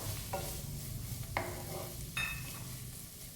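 Green peas being stirred in a pan, a quiet sizzle with three distinct scraping stirs of a spoon against the pan, close by.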